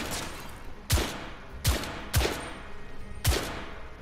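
Four loud gunshots ring out in The Order: 1886, spaced irregularly over a steady low background hum, each with a sharp crack and a short decaying tail.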